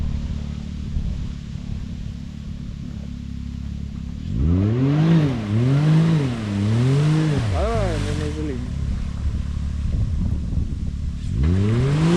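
BRP Maverick X3 off-road vehicle revving hard on an off-road track, its engine note climbing and falling in several surging bursts over a steady rumbling idle, close and loud, with brief voices in the background.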